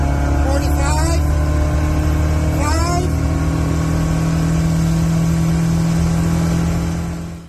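A tuned car engine revs hard during a dyno power run, with two quick rising sweeps early on, then a loud, sustained droning roar that holds steady before cutting off at the end.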